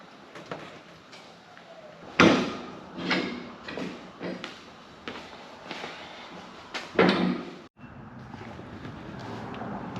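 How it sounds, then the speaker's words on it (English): A 2020 Ford Mustang GT500 hood shuts with a sharp, solid thump, the loudest of several knocks and handling clunks amid quiet background noise, with a second heavy bang near the end. "The hood is officially closed."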